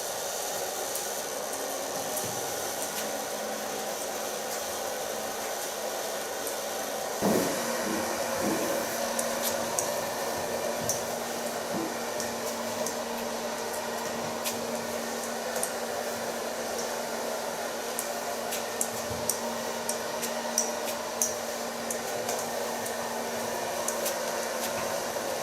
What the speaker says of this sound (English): So now I'm going to dry her hair using a medium light brush.